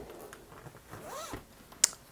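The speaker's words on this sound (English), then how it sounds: "So in step one, we're going to open the zipper" Zipper on a shawl collar being opened, a brief quiet rasping pull followed by a sharp little click, close and otherwise near silent.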